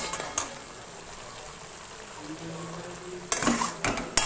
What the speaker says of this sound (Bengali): আদা রসুন আর কাঁচা লঙ্কার পেস্টটাকে একটু ভেজে নেব।